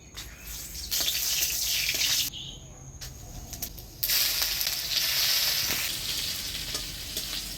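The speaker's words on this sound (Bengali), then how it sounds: "ডালে ফোড়ন দিব শুকনো লঙ্কা, তেজপাতা, থেতো করা আদা আর মৌরি।" Dried red chillies, bay leaf, crushed ginger and fennel seeds tempered in hot oil for Bengali dal, a loud close sizzle that drops out briefly twice, with faint voices under it.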